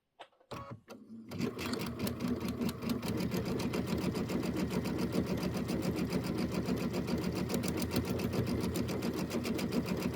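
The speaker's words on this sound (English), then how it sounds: "I can't stop sewing." Sewing machine stitching pieces of a Kimberbell Hello Sunshine quilt block, starting after a few clicks and then running in one long, loud, steady rhythmic stitching burst at close range.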